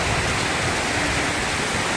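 Heavy rain pours steadily over a maize market where grain sacks are getting soaked, a dense, even hiss with no other sounds breaking through.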